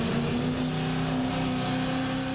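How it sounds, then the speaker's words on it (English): A Holden V8 ute race engine at Barbagallo revs hard and steady, a loud sustained roar that holds its pitch and builds slightly, with no voices over it. "You can hear those engine revs pick up"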